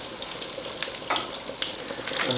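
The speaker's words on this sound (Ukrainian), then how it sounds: "начинаем смажити цибульку" Onions sizzle steadily in butter in a hot pan, a close crackling fry with occasional louder pops and stirring sounds.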